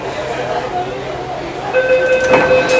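A Delhi metro train arrives at Lal Qila station, a rumbling rail approach with brief tonal chimes and signals, under a voice talking nearby.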